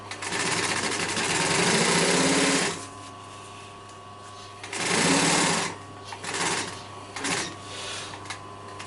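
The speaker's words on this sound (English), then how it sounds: "I'm sewing my side border on now to my inside back" A sewing machine stitches a side border onto a sofa's inside back upholstery in loud bursts of rapid whirring, three runs of varying length separated by quiet pauses.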